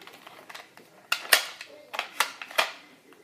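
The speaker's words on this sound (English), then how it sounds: "Those are the two Nerf guns." Toy Nerf blasters fired outdoors in a front yard, several sharp snapping pops with small clicks between, spaced irregularly and fairly close and crisp.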